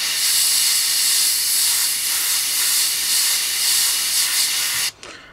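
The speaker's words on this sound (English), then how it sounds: "I'll show you, I'll just aim for the gun barrel there." An Iwata Revolution HP-CR airbrush with a 0.5 mm nozzle sprays blue paint in a steady, close airy hiss that runs unbroken for about five seconds and then stops abruptly.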